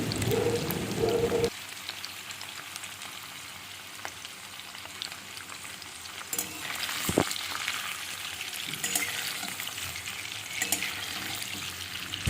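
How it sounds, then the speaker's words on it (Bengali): Paneer fries in mustard oil in a wok, a steady dense sizzle and crackle with occasional scraping stirs, close up and continuous without speech. "কড়াইয়ে 4 চামচ সর্ষের তেল দিয়ে তার মধ্যে পনিরগুলোকে আমি ভালো করে একটু ভেজে নেব"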